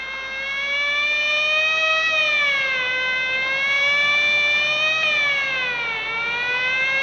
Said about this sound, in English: Quite unnecessary use of that siren